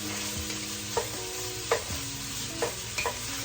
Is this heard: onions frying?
yes